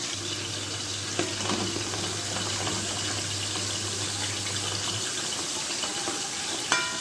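Sliced onion sizzles steadily in a pan as it browns for a potato and chicken dish, a continuous close crackle and hiss with no voices.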